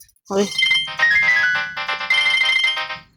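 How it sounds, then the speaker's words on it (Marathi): A phone ringtone plays loudly in a repeating melodic pattern for about three seconds, with faint background voices beneath it. "फोन बघ बरं कोणा"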